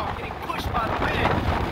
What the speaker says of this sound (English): Oh, getting pushed by the wind.